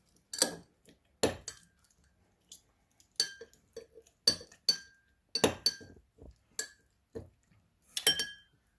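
Lemon is crushed in a glass for a homemade cocktail, giving a series of sharp, close clinks and taps as a muddler strikes the glass in irregular bursts, with quiet gaps between.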